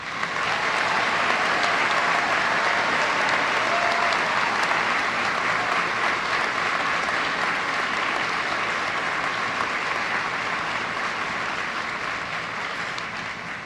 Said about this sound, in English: Please join me in applauding Class 121.